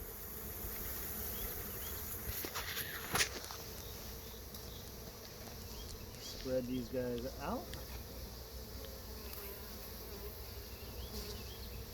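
Package honeybees buzz faintly and continuously while being poured into a hive, with a person speaking briefly over the low insect drone and a few soft knocks.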